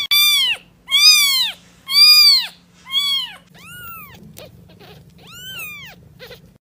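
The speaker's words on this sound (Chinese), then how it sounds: "听说这个声音可以召唤全网小猫" A cat meows repeatedly, about seven distinct drawn-out calls in a row, loud and close at first and then somewhat softer, with a faint steady hum beneath.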